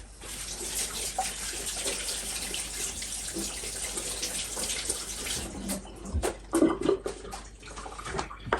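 Running tap water pours steadily over vegetables being washed, a close continuous rush, followed near the end by a few clattering handling sounds.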